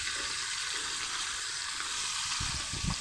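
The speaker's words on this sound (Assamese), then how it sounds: "মাছকেইটা যিহেতু মই খৰা কৰি দিয়া নাই, মানে গোটাই দিছোঁ, সেইকাৰণে মই টাৱাখনত ভাজিছোঁ।" A whole rohu fish fries on a tawa with a continuous hissing sizzle. Near the end come a few lower bumps and scrapes, as if the fish is being moved.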